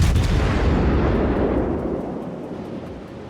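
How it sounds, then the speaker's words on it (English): Heavy naval gun salvo from a Daring destroyer in World of Warships, a deep booming blast at the start that rolls and rumbles loudly before slowly fading, with no talking. "Daring decided to shoot again"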